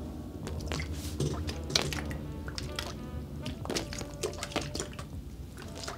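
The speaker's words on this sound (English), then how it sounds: "let's see if the water beads up on them with a little Propel fitness water test" Water poured from a bottle onto nylon and polyester jacket fabric, soft irregular splashing, dripping and squishing, close and fairly quiet, continuing steadily without speech.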